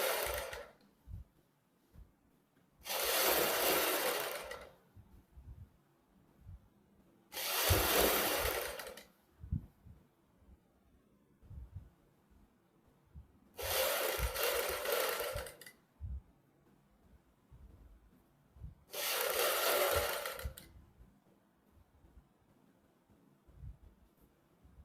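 Stitching a kurti neckline, a sewing machine runs in five separate short bursts of a couple of seconds each, with quiet pauses between runs, the whirring needle clear and close.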